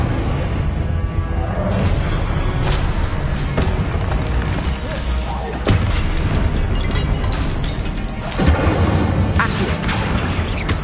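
In the Hogwarts Legacy video game, the Incendio fire spell goes off in a loud, dense combat barrage of blasts, booms and crackling bursts, with sharp impacts punctuating a constant roar.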